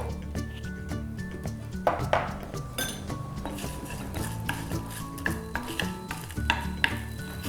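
Byadgi chillies and curry leaves fry in a pan with a utensil stirring them, giving frequent metallic scrapes and clinks against the pan over a steady soft sizzle, close and moderately loud.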